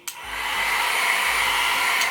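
A small purple travel hair dryer runs on its low setting, with a steady broadband whoosh and a low motor hum that starts abruptly and holds evenly for about two seconds.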